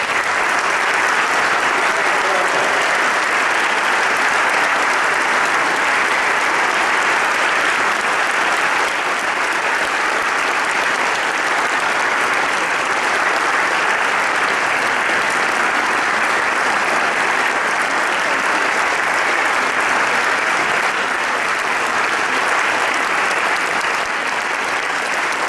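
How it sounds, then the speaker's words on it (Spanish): A conference audience applauds to welcome a speaker, with dense, sustained clapping that stays loud and even for the whole stretch, with no break. "Le pido al público presente que le demos el aplauso correspondiente"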